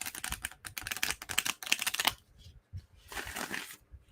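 A deck of tarot cards is riffle shuffled by hand, producing two bursts of rapid, crisp flapping clicks, the first longer and denser, the second brief and softer after a short pause.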